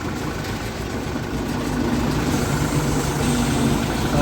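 A YuMZ-6L tractor engine, freshly rebuilt with a new crankshaft, runs steadily as the clutch is eased out, a constant low idling drone that grows slightly louder partway through, with no talking.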